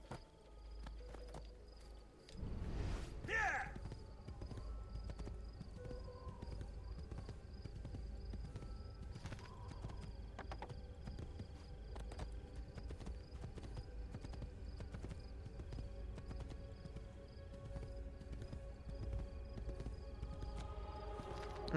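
Horses trotting in Assassin's Creed 2, a long run of steady, quiet hoof clip-clops after a brief louder rustling burst near the start, continuing evenly to the end.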